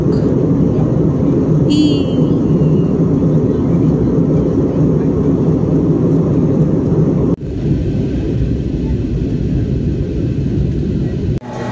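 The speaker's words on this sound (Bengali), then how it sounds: "এখন আমরা নামবো, ফ্লাইট ল্যান্ড করবে" A passenger airplane on a Kolkata-to-Bangkok flight comes in to land, heard from inside the cabin as a loud, steady engine rumble with a short chime early on and a sudden thump partway through.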